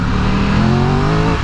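A 2022 Triumph Tiger 1200 Rally Explorer motorcycle engine revs hard on a B-road, its loud, close growl climbing steadily in pitch as it pulls toward the top end, with no talk over it.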